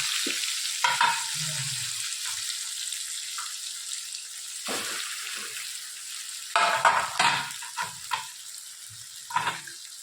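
Dhokla pieces frying in a tempering of oil with green chillies, hing and salt, a steady hissing sizzle broken by several louder crackling bursts and stirring scrapes, close by with no talk.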